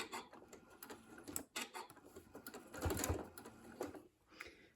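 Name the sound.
sewing machine stitching quilt pinwheel block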